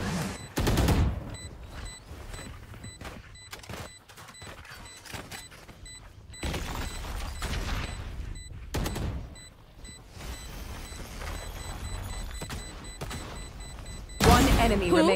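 Rapid gunfire bursts and single shots from the video game Valorant, sharp loud cracks scattered across the stretch with quieter gaps of game ambience and a heavy burst near the end.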